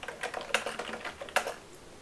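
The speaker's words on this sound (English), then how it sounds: "I will type them out." Rapid, uneven clicks of fingers typing on a computer keyboard on an Ubuntu Linux system, close and crisp, with a couple of louder keystrokes standing out.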